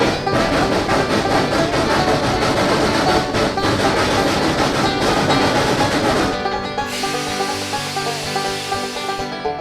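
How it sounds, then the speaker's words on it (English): A train rolls along the track with a loud, continuous rushing rumble, steady throughout and shifting in tone near the end, with no one speaking. "Why'd the train quit pulling?"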